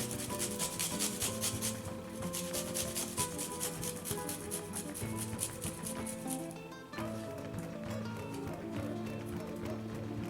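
A garlic clove is grated for tzatziki, making a steady run of quick, rhythmic rasping strokes with a brief pause near the end, heard over background music.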